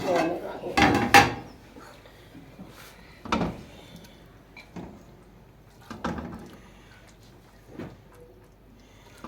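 Cooked daal mash being served out into a dish, with clattering spoon and pot knocks, loudest at the start and then a few spaced scrapes and taps, close up.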